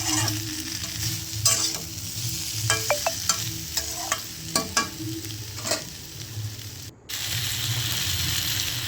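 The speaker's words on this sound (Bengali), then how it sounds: "এরপর আমি স্বাদ মতো লবণ আর চিনি দিয়ে মশলাটা আর একবার ভালোভাবে নেড়ে মিশিয়ে নেবো ভালোভাবে।" Spice paste for Bengali shukto sizzles loudly in a pan with salt and sugar, as a spatula scrapes and stirs in irregular clacks and swishes over continuous frying hiss.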